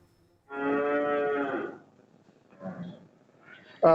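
A cow on a dairy farm at Albakara in Manikganj Sadar gives one long, loud, close moo, followed by a shorter, quieter lowing call and a sudden burst at the end.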